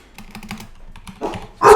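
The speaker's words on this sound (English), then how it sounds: "Sorry about my dogs." Clicking keyboard typing, then a dog barks twice, the second bark louder and closer.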